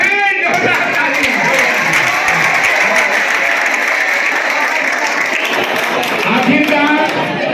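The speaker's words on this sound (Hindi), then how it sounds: "जोरदार ताली।" A school crowd at an Inter College celebration breaks into loud, sustained applause, dense steady clapping from many hands filling the whole stretch, with a few voices audible underneath.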